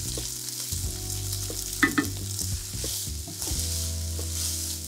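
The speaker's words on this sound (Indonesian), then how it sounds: "Tuang masuk beras dan goreng sekejap dalam 2-3 minit macam tu." Rice frying in margarine in a pan, a steady close sizzle with occasional stirring scrapes and small clatters over a low background hum.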